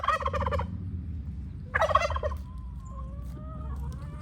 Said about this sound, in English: there's a turkey trying to keep everyone away from the cabbage